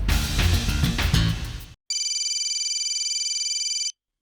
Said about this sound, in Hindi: आ ही गया उनका फोन।